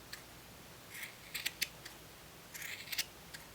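Scissors snip around a yarn pom pom in two quick clusters of crisp, close cuts, several sharp blade closes each, against a quiet room background.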